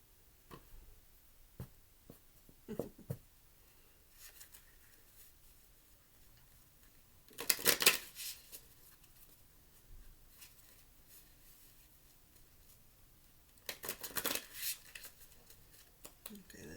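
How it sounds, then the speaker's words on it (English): A tarot card deck is riffle-shuffled in two quick, crisp bursts separated by long quiet stretches of soft card handling and occasional light taps, with a person talking quietly nearby. "We're going to shuffle this side of the deck first."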